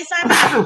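A single short sneeze, loud and close, a quick burst of breathy noise lasting under a second, following a spoken name.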